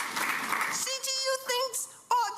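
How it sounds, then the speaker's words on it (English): Applause from a studio audience rises in a broad wash of clapping at the start, then gives way to someone talking, with the clapping fading under his voice. "They got some applause"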